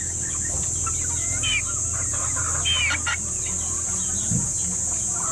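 Farmyard chickens, including a regular gray brood hen, cluck in scattered short calls over a constant high insect-like drone, with one deeper cluck close by near the end.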